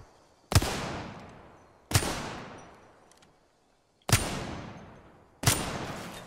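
Four loud, sharp gunshots from Apex Legends, each with a long decaying echo, spaced unevenly with brief pauses between them and no talk over them.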